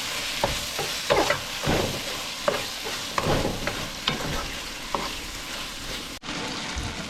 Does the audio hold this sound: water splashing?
no